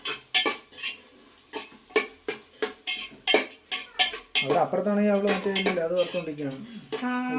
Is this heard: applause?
no